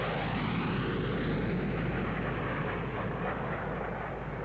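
A formation of nine English Electric Lightning supersonic jet fighters flying aerobatics at the Farnborough air show, a continuous loud, broad jet roar that stays steady throughout with no speech.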